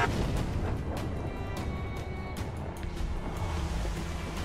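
Pirate ship cannon fire in the video game Assassin's Creed 4 Black Flag at sea: a string of dull, booming shots and pops over a constant roar of wind and water, with no talk.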